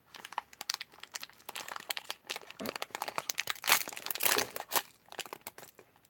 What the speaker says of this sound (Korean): 일단 에이스를 꺼내서 뜯어볼게요